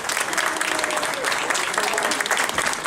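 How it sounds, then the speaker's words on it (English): An evening meeting audience applauds standing first-time attendees, a dense, even burst of many hands clapping in a hall, loud and sustained for a few seconds. "would you please stand up so we can give you a round of applause for braving your way to get here"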